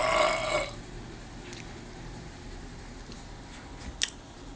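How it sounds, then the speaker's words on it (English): A man lets out a short, raspy burp at the start, close and fairly loud, followed by quiet room noise and a few faint clicks. "Nice burp."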